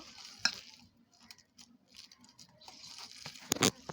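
Mashed potato being kneaded by hand in a bowl for tikki, with soft, irregular squelching and patting sounds that come up close and fairly quiet, ending in a few louder wet squishes.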